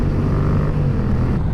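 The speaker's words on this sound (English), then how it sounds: "his bike sounds good. He's got a Two Brothers exhaust on there." Motorcycle fitted with a tuned Two Brothers aftermarket exhaust, a steady deep engine drone running loud and close on a highway, mixed with road and wind rush and no talking.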